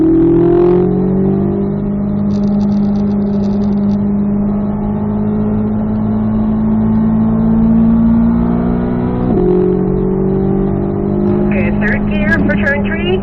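Chevrolet Corvette C8 Z06 engine pulling hard on a track, a loud steady drone rising in pitch, a sharp upshift into fourth gear about two-thirds through, then climbing again under faint wind noise.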